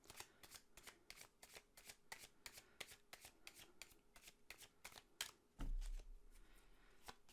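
Tarot cards being shuffled, a steady run of crisp riffling flicks close by, then a short louder thump and rustle near the end; no talking.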